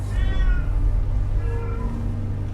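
A cat meows twice in quick succession, fairly close and clear over a low rumbling background hum.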